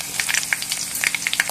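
Chillies dropped into hot oil where mustard seeds have already popped, a close sizzle broken by quick sharp crackles and spits clustered in two bursts, with nobody speaking.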